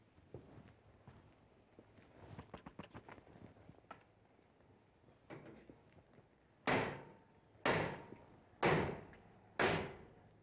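A firefighter drives the butt end of a flathead axe into a garage door track, crushing it to keep the door from coming down: four loud, heavy metallic impacts about a second apart, following quieter clanking and shuffling.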